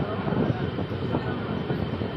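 The Coalfield Express passenger train runs on the railway toward Howrah, a dense steady rumble and rattle of wagons from inside the moving train, with faint murmur of voices beneath.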